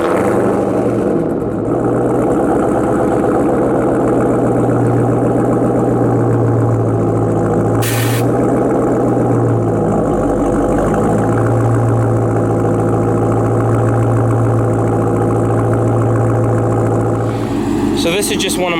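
Bagged Jeep Trackhawk idling on a warm start, a steady, loud low rumble that holds throughout with a slight rise in the middle, close by.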